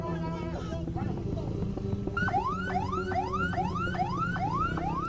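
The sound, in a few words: ambulance siren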